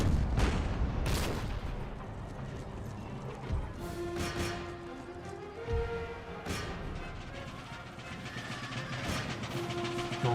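Musket volleys crack across a battlefield in Empire: Total War, with sharp bursts of gunfire over a dense din of combat, hooves and shouting, loud and continuous throughout.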